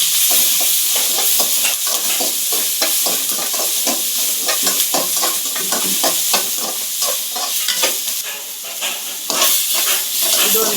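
Capsicum, onion, crushed garlic, ginger, green chillies and curry leaves frying for gobi: a loud, continuous sizzle with rapid, repeated scraping strokes of a spatula against the pan, close up throughout.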